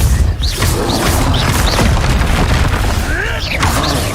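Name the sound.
spell blast explosion in Hogwarts Legacy video game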